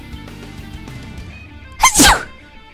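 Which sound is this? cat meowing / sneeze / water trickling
sneeze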